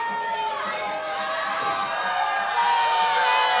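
A wrestling arena crowd roars, cheers and shouts steadily as a female wrestler showboats, a loud continuous wall of voices with whoops rising toward the end.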